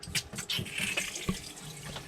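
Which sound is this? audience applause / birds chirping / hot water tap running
hot water tap running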